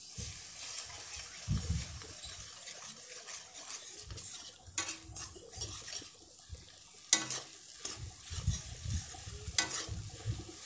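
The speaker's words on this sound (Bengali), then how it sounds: "ডিমটিকেও একটু নাড়াচাড়া করে একই সঙ্গে ভেজে নেব।" Egg stir-fried in a pan alongside noodles for chow mein, a steady close sizzle broken by repeated scraping and clacking of a utensil against the pan, with no talking.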